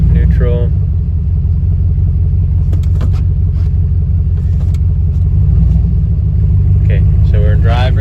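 A 2003 GMC 2500HD truck idles with a deep, steady low rumble as it is shifted into gear, with brief clicks and someone talking over the engine noise.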